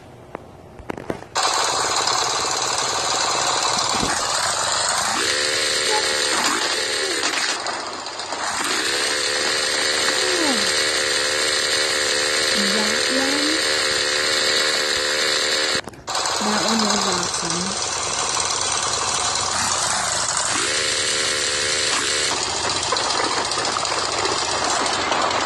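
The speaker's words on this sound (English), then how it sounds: "should we use the motorcycle? That's really noisy" A loud, continuous motorcycle engine drone from the Stickman Dismount video game, holding a steady buzzing tone with a few brief cutouts and pitch swoops as the crash plays out, with no talk over it.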